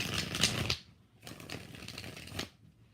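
Tarot cards are riffle-shuffled in two quick bursts of rapid papery flutter, close up, with a short pause between them.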